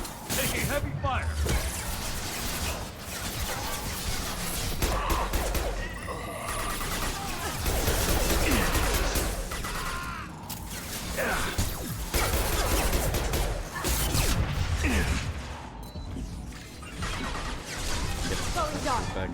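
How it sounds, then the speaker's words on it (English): Dense, continuous gunfire and crashing impacts from the Mass Effect Legendary Edition video game, loud and sustained throughout with bursts of whooshes and smashes, under game music and voiced dialogue. "Taking heavy fire."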